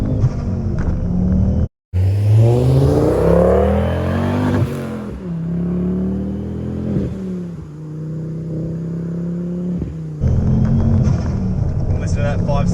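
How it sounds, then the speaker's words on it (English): A 2008 Ford Focus XR5 Turbo five-cylinder with an aftermarket exhaust revs up and holds a loud, rumbling drone from inside the car, with engine pitch rising and falling across several pulls. "And listen to that 5-cylinder go."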